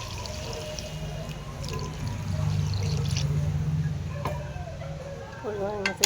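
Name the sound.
water poured into a pan of spices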